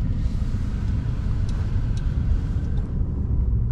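Steady low road rumble and engine drone from inside a 2024 Mercedes E-Class E 220 d diesel on the move, even and continuous, with no voices.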